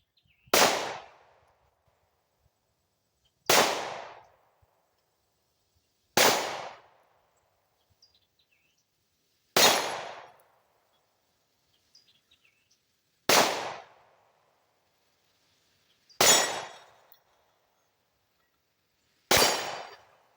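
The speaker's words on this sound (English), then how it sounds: "First shot, got to get used to the trigger" Seven sharp Glock pistol shots ring out at a shooting range, evenly spaced about three seconds apart, each a loud, crisp crack with a brief decaying tail and silence between.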